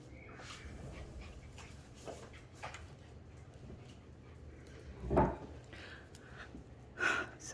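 A dog just outside a room whimpers and pants close by, with a few scratching and bumping sounds and a sharper thump toward the end.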